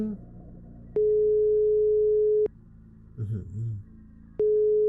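A phone call to mom in a horror game goes unanswered: two long, loud, steady electronic ringback tones separated by silence, with a brief murmur in the gap before a third tone starts.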